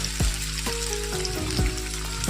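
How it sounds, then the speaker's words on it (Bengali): Paneer pieces fry lightly in a pan, giving a steady soft sizzle that runs throughout along with a low background hum and a few faint clicks. "পনিরটাকে ভেজে নিই তাই জন্য ভাজছি"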